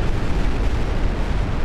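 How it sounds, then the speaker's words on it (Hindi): Artillery shells fired from North Korea explode around the disputed South Korean island of Yeonpyeong, heard as a loud, continuous, dense roar and rumble with no distinct separate blasts. "बेहिसाब गोले दागे।"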